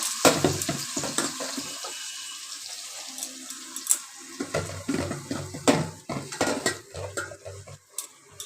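A spiced cabbage mixture goes into a wok with extra oil and is stirred, giving bursts of close metallic scraping and clanking separated by short pauses, with a faint frying hiss.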